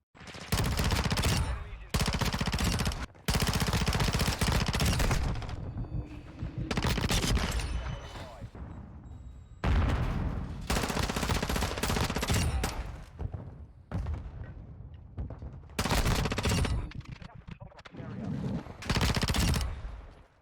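Automatic gunfire from a close-quarters weapon in Call of Duty, fired in loud sustained bursts of rapid shots separated by short pauses, heard alone throughout.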